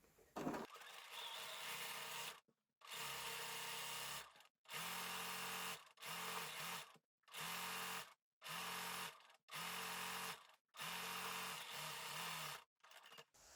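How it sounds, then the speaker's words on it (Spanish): A sewing machine topstitches close to the edge along a jersey T-shirt neckline seam, running in about seven steady bursts of a second or so, each separated by a short pause, with a low motor hum under the rapid stitching. "Vamos a pasarle un pespunte a 2 milímetros más o menos del borde, pisando esa costura."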